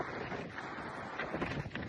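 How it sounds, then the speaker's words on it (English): Strong, dusty wind blows steadily outdoors and buffets the microphone with a constant broadband roar, with no talking heard. "Super windy, guys. Super windy."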